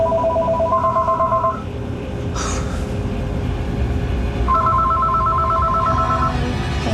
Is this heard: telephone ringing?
yes